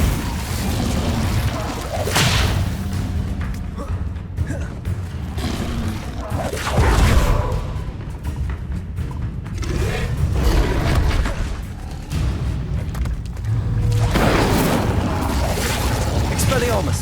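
Fiery spell blasts erupt in a Hogwarts Legacy duel, with repeated booming bursts and whooshes over a dense, continuous bed of game effects and music, while voices shout during the fighting.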